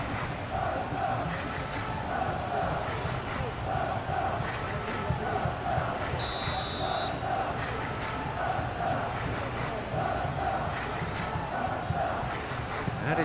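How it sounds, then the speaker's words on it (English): A stadium crowd in the football video game PES during a Getafe versus Barcelona match, a steady dense roar with rhythmic chanting swells, fairly loud and continuous. "Maybe the crowd will stay a little quieter next time."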